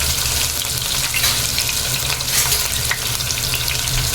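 Chopped onions frying in oil for a chicken gravy, a loud dense crackling sizzle that stays steady throughout, heard up close with no one speaking.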